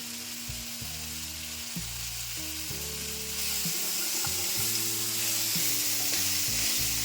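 Chutney ingredients fry in oil in a pan with a continuous bright sizzle, joined by intermittent scraping and stirring knocks, the hiss growing slightly louder partway through.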